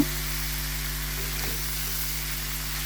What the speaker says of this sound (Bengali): এগুলো এখন আমি দিয়ে দিব। দিয়ে কষায় নেব মশলার সঙ্গে আবারও